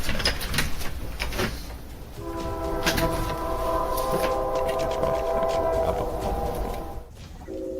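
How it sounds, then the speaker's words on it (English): A late-night train rumbles past on nearby tracks with a long sustained horn blast in the middle, then the noise drops away abruptly near the end. "this late night train is heard in all of his videos"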